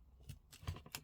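Paper being snipped with scissors while making double paperclip pockets for a journal, a few short crisp cuts close up, alone with no talk.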